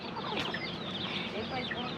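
Chickens cluck and chatter continuously with a busy, noisy farmyard backdrop and some faint voices mixed in.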